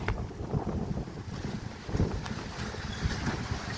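Strong wind before rain roars steadily against the microphone, buffeting in low gusts with a constant rushing hiss and no voices.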